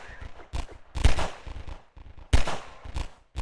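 Gunfire in Half-Life 2, several sharp shots in two bursts with brief rapid reports between them, close and loud.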